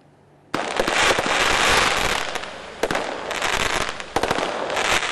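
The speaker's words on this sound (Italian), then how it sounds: "I botti invece erano un gentile omaggio degli ambientalisti" Firecrackers set off by environmental protesters near the opening ceremony of the Pedemontana Veneta road burst into a loud, dense crackling barrage, a rapid close stream of snapping pops with brief lulls before fresh volleys.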